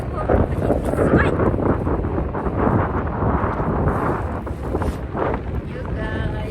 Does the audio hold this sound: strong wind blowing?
yes